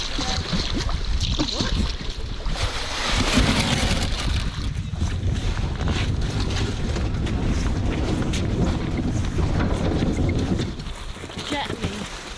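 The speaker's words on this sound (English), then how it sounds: "Enjoying the waves, Sol?" A sea kayak rides choppy waves on Loch Etive, with water slapping and sloshing against the hull under steady wind buffeting, a voice briefly audible over the noise.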